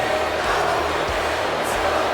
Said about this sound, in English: and the reaction from the crowd